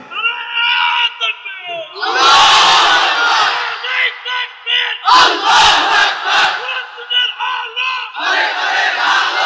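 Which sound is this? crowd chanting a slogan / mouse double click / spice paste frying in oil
crowd chanting a slogan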